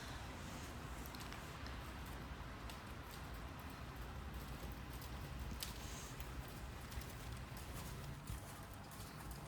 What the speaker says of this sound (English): You might be able to hear it's raining pretty hard